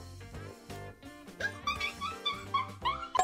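A dog whimpers in a run of high, thin whines and short yips, close and fairly quiet, rising and falling in quick succession.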